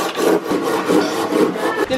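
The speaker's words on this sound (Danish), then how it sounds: "Så er Louise lige i gang med saven." Hand saw cutting through wood, with close, loud rasping strokes repeating in a steady back-and-forth rhythm for two seconds, no talking.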